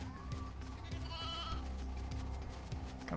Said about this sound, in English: the sheep! No!